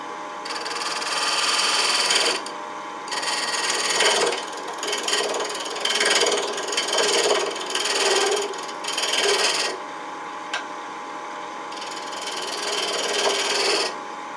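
Turning tool peeling and cutting exotic Palo Santo wood on a lathe, a steady scraping, rasping cut in repeated bursts with brief pauses between passes.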